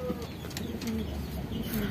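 A small pigeon coos close by in a few soft, low repeated calls, heard alone over a light background hum with no speech.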